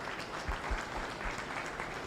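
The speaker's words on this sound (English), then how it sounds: "A hand of applause to the panel." A symposium audience gives the panel a brief round of applause, heard as a soft, fairly distant wash of clapping with no clear voices over it.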